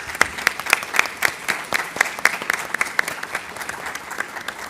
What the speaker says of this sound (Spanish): quiero pedir unos fuertes aplausos para Rafael Aita.